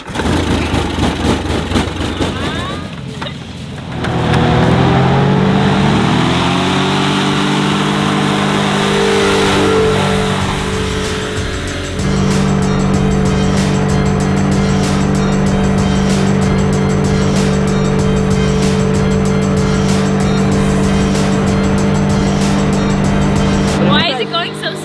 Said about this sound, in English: The hovercraft almost pretty much drives itself.